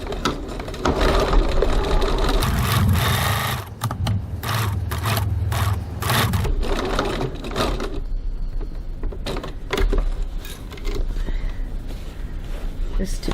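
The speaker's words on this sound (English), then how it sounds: "I'm going to stitch 1/4 of an inch or 6 millimeters from the edge" A sewing machine runs a long basting stitch a quarter inch from the edge of a crossbody bag panel. It whirs steadily in long runs, broken by brief pauses and mechanical clicks.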